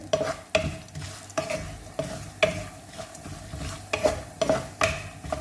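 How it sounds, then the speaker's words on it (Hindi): Poppy seeds and cashews dry roasted in a pan for khaskhas laddu, a spoon scraping the metal in regular strokes roughly every half second, each stroke a crisp rasp over a soft rustle of seeds, no voices. "हल्का हल्का इसमें रोस्ट कर लेंगे।"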